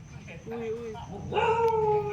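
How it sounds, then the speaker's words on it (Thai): Dogs at a large temple in Phitsanulok at night give a few short, whining barks and yips at moderate distance, with people talking nearby. "อ้าวหมาเห่าแล้วลูกลงมาเร็ว"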